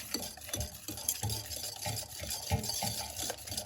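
A spoon stirs custard into a pumpkin pie ice cream base in a bowl with soft, rhythmic scraping and sloshing strokes, close and fairly quiet, with no talking.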